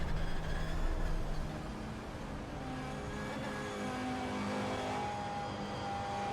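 Audi Quattro GTO racing car on the Nordschleife in a racing video game, its engine droning at steady revs with a louder surge at the start, then a constant close drone.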